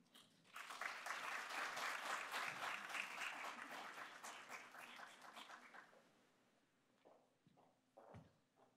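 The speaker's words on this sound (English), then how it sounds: "please join me in another round of applause for Anna" Audience applause at a Navy Day hearing on military spouses, a dense burst of clapping that builds quickly, holds for several seconds, then thins out into scattered claps and room noise.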